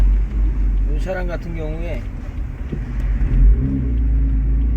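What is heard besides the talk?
BMW M4 convertible with tuned exhaust while driving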